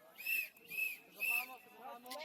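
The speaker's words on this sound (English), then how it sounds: "You hear the whistles go to say that game has started" Three sharp referee whistle blasts ring out mid-distance to start a point in an ultimate frisbee match, evenly spaced with brief gaps, followed by softer chirps.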